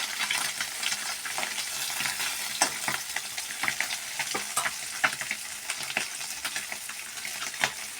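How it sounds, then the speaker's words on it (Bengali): Fish frying in hot oil, a continuous low crackling sizzle with frequent sharp pops and spits, fairly quiet and close, with no voices. "মাছগুলো ভেজে তারপর তোমাদের দেখাচ্ছি।"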